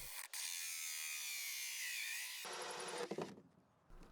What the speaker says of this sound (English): grab my 2-inch hole saw and drill, and we'll just cut out this hole